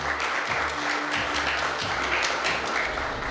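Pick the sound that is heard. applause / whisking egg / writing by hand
applause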